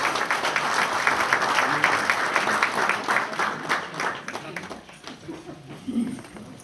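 Audience applause at a wind orchestra concert, steady dense clapping from a crowd that thins and fades out toward the end.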